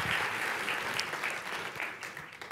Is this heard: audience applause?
yes